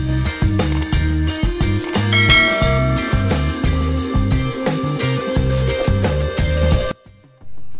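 A bright bell chime rings over a loud, rhythmic mechanical clicking pattern, which stops abruptly near the end.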